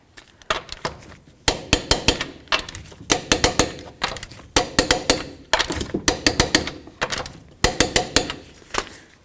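A torque wrench ratchets down the lug nuts on a 2007-or-later Toyota Tundra wheel, producing close, sharp metallic clicks in quick repeated bursts separated by short pauses.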